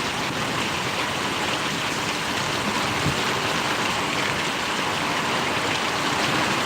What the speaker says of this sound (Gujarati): મજાનો વરસાદ અત્યારે